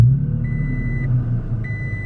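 A Toyota Tacoma pickup engine idles steadily with a low, continuous rumble, close and even throughout, with a faint tonal whine above it and no voices.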